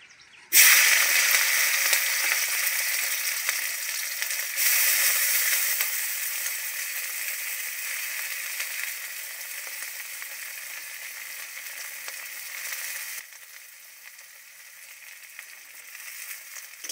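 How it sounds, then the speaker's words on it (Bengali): Prawns fry in hot oil in a kadai, a loud, continuous sizzle that bursts in after a brief pause, swells once, then slowly softens over its length. "প্রথমে আমি চিংড়ি মাছগুলোকে ভেজে নেব।"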